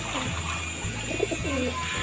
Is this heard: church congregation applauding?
no